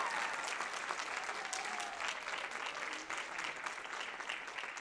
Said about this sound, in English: Let's give Mr. Black a round of applause for making that happen.